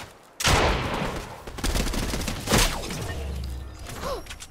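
A sniper rifle fires in Fortnite during a squad match, one loud sharp crack followed by a second heavy report a couple of seconds later, with rumbling tails and scattered in-game mechanical clatter.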